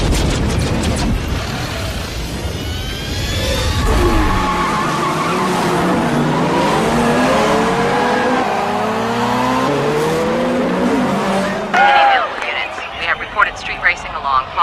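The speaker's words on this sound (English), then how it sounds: "Street racing along Hawthorne." Street racing cars along Hawthorne tear past with screeching tire squeals and revving engines, loud and sustained, mixed with voices and a sudden burst of commotion near the end.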